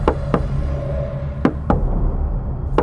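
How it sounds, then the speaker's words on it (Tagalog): Knocks land on a wooden door in a dramatized horror story: two quick raps, then a pause and two more, sharp and close over a steady low background drone. "narinig niyang may kumatok sa pinto. 2 sunod na katok."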